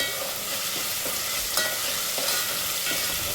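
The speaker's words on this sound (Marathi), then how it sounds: "तेलामध्ये अशी चांगली परतून घ्यायची." Ginger-garlic paste sautéing in hot oil for chicken vade, a continuous close sizzle with regular scraping strokes of a spoon, no voices.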